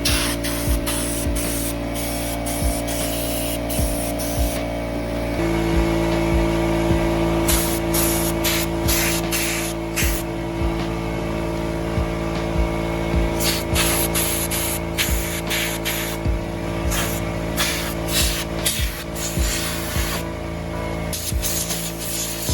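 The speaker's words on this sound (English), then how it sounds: "still had to take it outside to the air compressor because it was dusty as hell" An air compressor nozzle blowing dust out of a computer outdoors, a loud continuous hissing rush of air broken by frequent short bursts as the trigger is pulsed, with a steady compressor hum underneath throughout.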